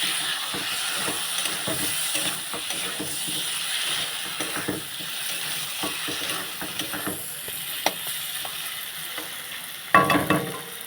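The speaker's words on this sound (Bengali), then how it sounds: "এবারে দেব ধনে বাটা দিয়ে ভালো করে কষিয়ে নেব" Ground coriander paste fries in a pan with a steady, hissing sizzle, while close stirring scrapes tick through it at an irregular pace. A sharper clatter comes near the end.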